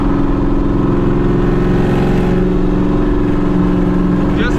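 A loud supercharged Pontiac GTO exhaust without mufflers drones and revs continuously up close, a deep rumbling roar that holds steady throughout.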